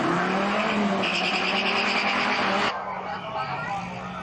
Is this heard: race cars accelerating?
yes